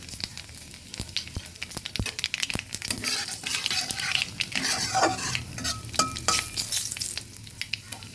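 Nigella seeds sizzling in hot oil in a frying pan over lowered heat, a lively crackle with repeated sharp clicks and scrapes of a spatula stirring against the pan, close and busy throughout.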